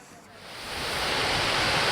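Overflow water from Uirimji reservoir in Jecheon spills as a waterfall, a loud, steady roaring rush that swells up over the first second and then holds constant, with no talking.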